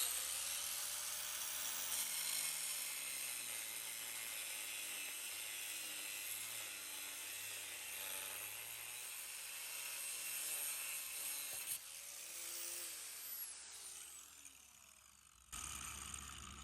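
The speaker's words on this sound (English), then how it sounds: "We're gonna cut through it with our angle grinder and our cutoff bit here." Angle grinder with a cutoff wheel slicing through rebar in a brick wall, a loud continuous whine with the pitch wavering under load for about twelve seconds, then winding down and stopping.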